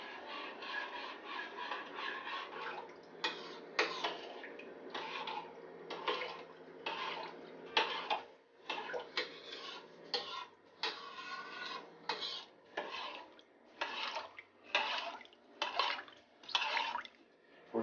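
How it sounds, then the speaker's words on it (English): Hands mixing meat with Korean bulgogi marinade ingredients in a bowl, a run of repeated wet squishing, rubbing strokes in an uneven rhythm, close and moderately loud with no talk. "we're going to go ahead and mix up all the ingredients now"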